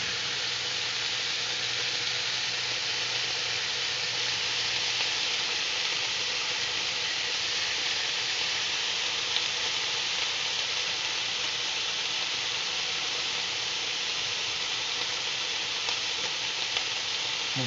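Pork chops frying in a small pan give off a loud, steady sizzle that holds evenly throughout, with no voices over it.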